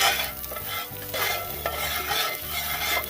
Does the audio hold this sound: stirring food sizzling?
yes